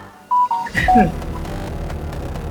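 Two short electronic keypad beeps like a phone being dialed, followed by people talking loudly.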